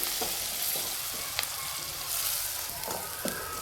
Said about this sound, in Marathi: कडक फोडणी करायची जेणेकरून आपले बेसन छान लागेल चविष्ट खाण्यासाठी. यामध्ये टोमॅटो टाकून घेते मी